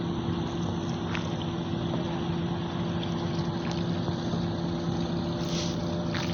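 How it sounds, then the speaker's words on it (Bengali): A boat's engine drones steadily on the Titas River at Nabinagar as a speedboat approaches, a continuous loud motor hum with water wash and wind noise and no talking. "সামনে স্পিড বোট আসতেছে"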